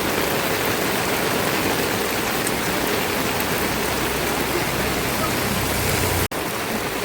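Steady evening rain falls alone as a dense, unbroken hiss across the whole stretch, close and loud, cut off by a sudden brief dropout just before the end.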